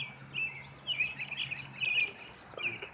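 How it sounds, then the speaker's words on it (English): A flock of goldfinches sings outdoors in Ohio, their quick high chirps and twittering calls coming in repeated bursts at moderate distance over a low steady background hum. "There's a bunch of goldfinches out here, and there is a lot of them."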